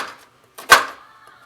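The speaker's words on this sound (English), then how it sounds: "I'm just going to go ahead and cut that off" A knife cuts off part of a fish being prepared for steaming, giving one soft knock and then a single sharp, close chop against the board, followed by quiet.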